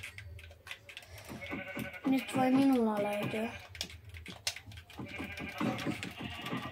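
Sheep bleating in the Minecraft video game, a wavering bleat in the middle of the clip, mixed with mouse and keyboard clicks while someone talks over it.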